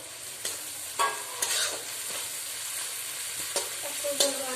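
Garlic, cumin and red chilli paste fry in a pan for a Rohu fish curry, a steady close sizzle broken by several sharp scraping stirs of a spatula, with no talking.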